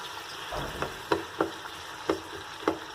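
Chopped medium-sized onion frying in a pan over full flame, a steady sizzle broken by several sharp pops and spatters spaced irregularly, close and moderately quiet, with no talking.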